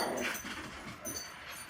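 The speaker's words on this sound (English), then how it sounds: "Oh, these dogs are going to drive me crazy." Dogs whimper and whine nearby in a room where hat pins are being made, high, thin, wavering cries that rise and fall, moderately loud and heard alone.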